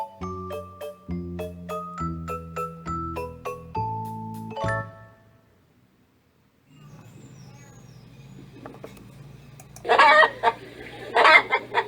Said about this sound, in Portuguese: Galinha, em inglês é chicken.